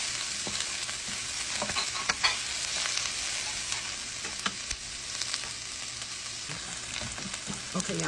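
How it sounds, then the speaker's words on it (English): Peppers sauté in a pan with the oil and residue left from cooking sausage. A soft, continuous sizzle runs under scattered light stirring clicks and scrapes, close but moderate in level. "And we're going to saute these just a little bit."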